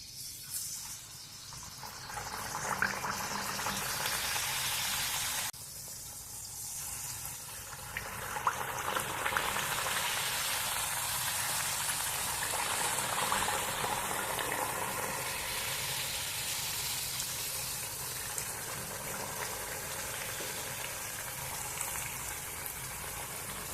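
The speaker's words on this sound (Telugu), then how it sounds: "ఆయిల్ వేడైంది. ఒక్కొక్కటి నిదానంగా తీసేసుకొని వేసుకున్నాము." Rice flour and moong dal crackers sizzle steadily in hot oil, a continuous bubbling frying hiss that holds through the whole stretch without talk.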